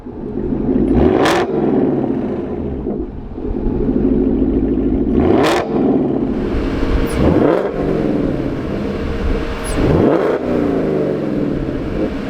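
A Shelby Super Snake R with a louder, track-tuned exhaust revs hard several times, each sharp rise and fall in engine pitch ringing out close and loud over a steady rumbling idle, with no talking.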